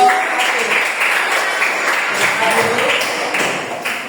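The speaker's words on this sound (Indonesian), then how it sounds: "Oke, kita kasih aplaus untuk kelompok" Classroom applause for a student group that has just finished its presentation, a dense spread of clapping that runs steadily for about four seconds with some scattered voices mixed in.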